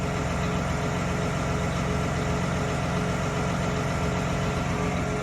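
A John Deere 8R340 tractor's diesel engine idles steadily and close by, a continuous low rumble with an even mechanical chug and no voices.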